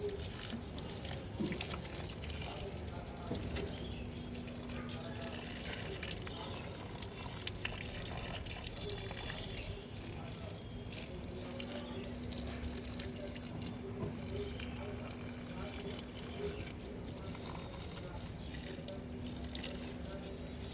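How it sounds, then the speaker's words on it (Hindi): A weak trickle of water runs steadily from a tap during a hot summer at a home in Uttarakhand. The flow is faint and continuous, with soft background noise. "पानी भी इतना कम आ रहा है, इतना कम आ रहा है ना"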